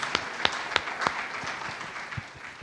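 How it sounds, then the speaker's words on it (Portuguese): Church congregation applauding during a Portuguese-language sermon, a modest spread of claps with a few sharp distinct hits at first, fairly faint, then tapering off. "Vamos dar uma salva de palmas ao Espírito Santo que nos faz entender isso."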